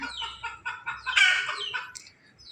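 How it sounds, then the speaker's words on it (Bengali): Chickens cluck and squawk close by outdoors at a rural home on a sunny day, a run of rapid, busy calls rising into one louder squawk, with no talking. "মুরগি কলরব করছে"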